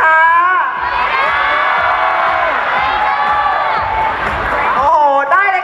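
A large crowd cheers, whoops and shouts for contestants at the Miss Satellite 2014 beauty pageant opening, a loud sustained roar of many voices with high shrieks lasting throughout.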